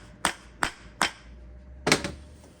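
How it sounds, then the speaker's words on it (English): A hammer taps a rear suspension bush into place on a Hillman Imp under restoration: three evenly spaced sharp metallic knocks, then a pause and a doubled, slightly louder strike, close and clear with no talking. "Let's just give that a bit of a tap."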